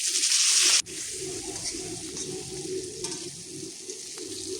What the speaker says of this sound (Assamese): এইফালে মই ভাজি কৰি লৈছোঁ